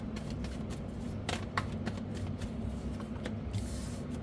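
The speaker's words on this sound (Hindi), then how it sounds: "ये बहुत सारे कार्ड्स आ गए" Tarot cards are shuffled by hand in quick, papery riffles and flicks, quiet and close, with short bursts repeating across the whole stretch and no voice.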